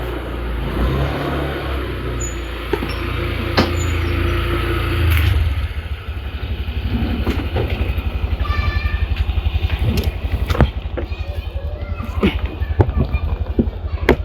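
A motorcycle arrives to pick someone up: a steady engine drone at first, then a rhythmic idling putter from the close machine, with light clatter and occasional voices.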